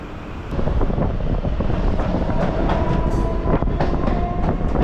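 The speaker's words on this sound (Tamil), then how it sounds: "இப்போது train நிற்கிறதாங்க Chennai fourth railway station" An electric commuter EMU train in Chennai, stopping at a railway station, rumbles loudly and steadily along the tracks with rattling clatter and wind buffeting, no voices.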